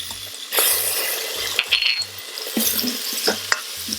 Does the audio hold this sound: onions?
yes